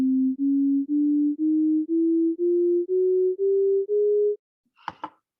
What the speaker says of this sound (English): So this is what Western chromatic scale sounds like.